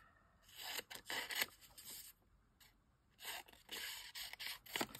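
Paper from a die-cut shape is trimmed in short rasping bursts of cutting, quiet and close, with brief pauses between strokes.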